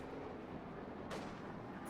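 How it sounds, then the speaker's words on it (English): In the Company of Heroes 2 video game, a vehicle hits a mine and explodes, heard as a sharp blast partway through over continuous rumbling battle noise. "Oh, something hit a mine."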